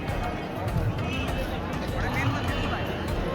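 A dense crowd in front of the main temple at Tirupati, a continuous loud babble of many voices with footsteps and movement, steady throughout and close around.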